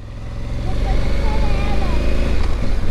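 A Honda Africa Twin motorcycle engine revs loudly and steadily up close, its throttle rising over about three seconds, with a voice faintly audible over the engine.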